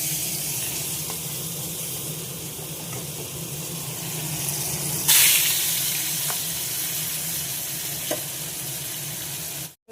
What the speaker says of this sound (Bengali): এদিকে দেখো ঘি ফুটছে